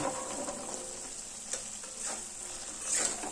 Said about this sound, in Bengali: এবার কেটে নেওয়া সজনের ডাঁটা দিয়ে দিচ্ছি